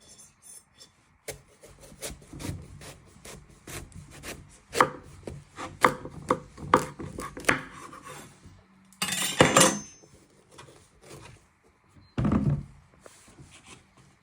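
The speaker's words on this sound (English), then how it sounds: "you're going to get a knife and you want to chop all the way through" A knife chopping all the way through a pumpkin on a board, a quick series of hard knocks and scrapes followed by two louder, longer rasping cuts through the tough flesh.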